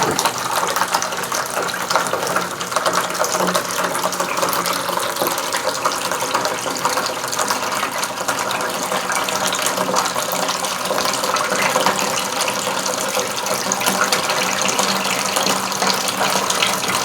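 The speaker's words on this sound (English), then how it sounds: "So we just got to transfer it from the brew pot." Pumpkin ale wort, cooled to about 90 degrees, pours steadily from the brew pot into a bucket, a continuous close splashing gush of liquid with no pauses.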